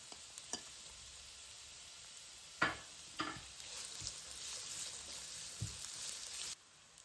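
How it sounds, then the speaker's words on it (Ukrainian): Onion fries in oil with a soft, steady sizzle, broken by a few sharp taps and scrapes of stirring, close and fairly quiet. "На цю ж пательню додаємо ще олії і підсмажуємо цибульку"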